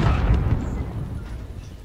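An RPG-7 rocket explodes in a video game, a loud, deep rumbling boom already underway that slowly fades over about two seconds, with no voices.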